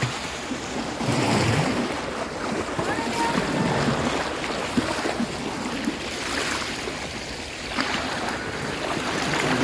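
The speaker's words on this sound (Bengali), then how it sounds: "এই যে ঢেউ দেখেন কি পরিমাণের ঢেউ" Sea waves churn and surge around the listener, a rolling roar that swells and eases, with wind buffeting the microphone.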